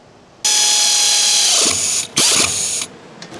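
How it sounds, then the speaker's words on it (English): Pneumatic ratchet with a 16 mm short socket tightening a stabilizer link nut on a Ford Escape lower control arm; two loud close bursts of steady whirring, the first longer, separated by a brief pause. "Tighten the stabilizer link nut using a 16 mm short socket and a pneumatic ratchet."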